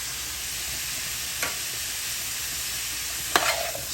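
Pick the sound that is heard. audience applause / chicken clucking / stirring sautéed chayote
stirring sautéed chayote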